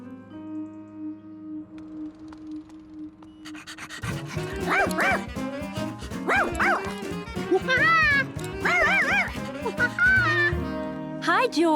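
A cartoon dog barks and pants in a series of loud, yappy bursts, starting after a few seconds of quiet background music and continuing with musical accompaniment.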